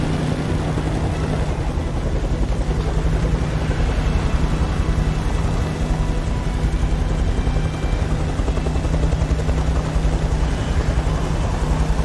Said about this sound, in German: Wir müssen den Helikopter irgendwie abschütteln.